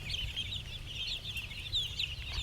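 Native chickens peck and cluck on the ground at a small farm, making continuous soft overlapping clucks and chirps from several birds close by under a low rumble of wind or handling noise.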